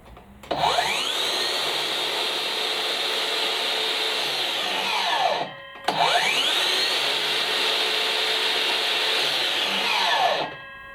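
A Makita 36V DLS111 cordless mitre saw, running on two 18V batteries, spins up twice in a row, each run a loud, high whining roar lasting about five seconds before winding down, with a brief gap between them.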